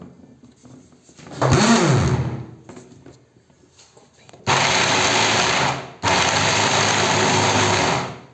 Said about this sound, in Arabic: دوكا نوليو نرحيو الجوز